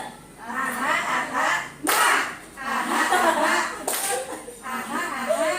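A group claps the 'tepuk semangat' spirit clap chant, loud sharp claps in bursts mixed with chanting voices and talk, close and lively.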